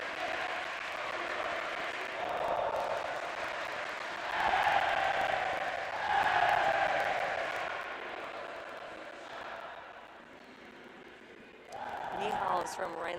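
A swim team cheers at a swim meet, a distant crowd chant swelling and fading in waves under a nearby commentator's talk.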